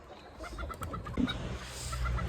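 Rooster and hens cluck softly at a moderate distance in a short stretch, a few sharper calls standing out over a low background hum.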